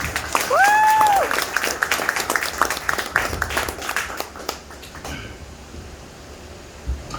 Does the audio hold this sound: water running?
no